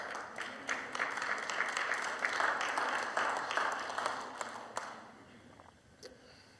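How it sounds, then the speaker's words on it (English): A church congregation claps steadily during the Sunday offering, a sustained rhythmic round of applause at moderate distance that thins out toward the end. "Clap when you give."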